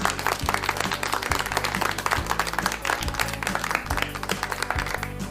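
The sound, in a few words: round of applause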